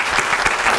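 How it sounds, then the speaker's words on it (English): A brief burst of dense audience applause at a nursing excellence awards event, loud and close, continuous clapping without a break. "if I could have a special round of applause for them"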